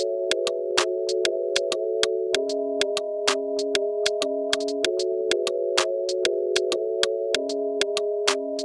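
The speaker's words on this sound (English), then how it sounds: "it's just like a rim, a clap, and some hi-hats" A programmed drum beat of rim clicks, claps and hi-hats keeps a steady, tight pattern over sustained harmonic chords that shift every few beats, with no talking.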